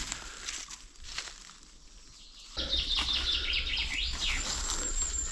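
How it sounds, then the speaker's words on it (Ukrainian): Birds chirp and trill in a forest. The calls are faint at first and get louder and busier partway through, with rustling close by. "Ох, пташки співають."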